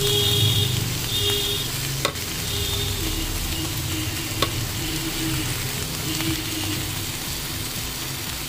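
Uttapam with chopped coriander on top frying in a pan, a close, steady sizzle that runs throughout, broken by a couple of sharp clicks.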